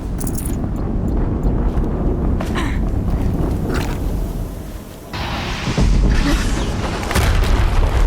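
Loud rumbling blasts from explosions in the video game Horizon Zero Dawn, with booming low-end surges and a sharp jump in intensity midway, continuing as a dense, sustained roar.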